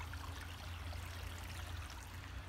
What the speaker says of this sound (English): So, here's the creek, you guys. Beautiful, beautiful sound.